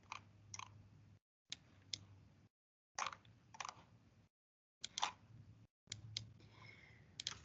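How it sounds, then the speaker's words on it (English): Quiet bursts of clicking keystrokes on a computer keyboard, short runs of taps separated by brief silences, close and soft with no talking. "I'm just going to type them out onto the screen."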